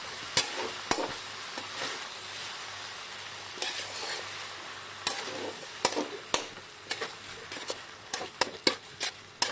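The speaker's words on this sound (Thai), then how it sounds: "จากนั้นก็ผัดต่อค่ะ ผัดไปจนกว่าใบกะเพราจะสลดลงไปค่ะ" Holy basil leaves and wide rice noodles are stir-fried in a pan, with a steady sizzle under repeated scraping and clacking strokes of a spatula that grow more frequent toward the end.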